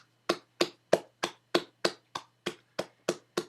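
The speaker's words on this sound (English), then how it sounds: "Give yourselves a round of applause, everybody who read." Eleven slow, evenly spaced single claps from one participant in an online meeting, crisp and fairly quiet, each sharp and separate against near silence.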